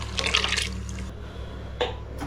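Rice added by hand into a cooking pot gives a rushing, watery pour followed by a quieter pause and a second short splash, heard close over a low steady hum.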